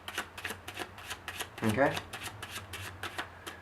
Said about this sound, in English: But the messier the better with the Overhand Shuffle.